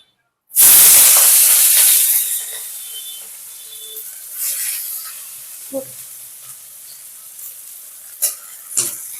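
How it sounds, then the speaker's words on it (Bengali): Chopped onions dropped into hot oil for birista burst into a loud, bright sizzle that gradually settles into a steady frying hiss, with a few soft stirring knocks near the end. "এই পেঁয়াজগুলোকে এবার লাল করে ভেজে নেব"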